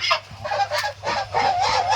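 Loud, close honking calls from large Muscovy ducks on a duck farm, repeated in quick bursts with short pauses, with no talking.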